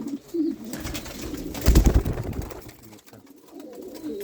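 Pigeons cooing near a loft where birds are kept with eggs and young, low throaty coos rising and falling close by, with a louder burst in the middle and a quieter close.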